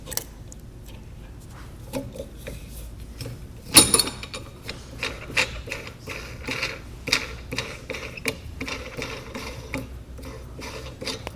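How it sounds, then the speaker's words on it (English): A ratcheting socket wrench turns a bolt on an anti-sway bar knob, giving close, irregular bursts of small mechanical clicks with one sharper clatter near the start. "I used an inch socket to take off that bolt"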